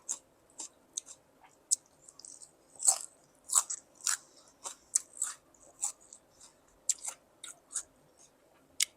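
Crunchy bites and chewing of a large crisp fig eaten with raw green banana, a steady run of sharp close crunches roughly every half second, with no talking.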